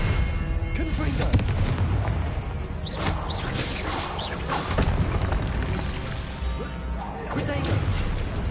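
Repeated fiery spell explosions from the Confringo spell in Hogwarts Legacy, booming blasts and whooshes over a constant rumbling battle bed, with some speech in the mix.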